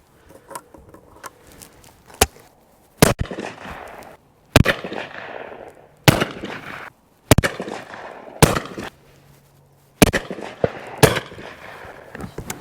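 Vintage English side-by-side shotgun firing at clay targets outdoors, about ten sharp, loud reports spaced a second or two apart, often in quick pairs, each with a short decaying echo.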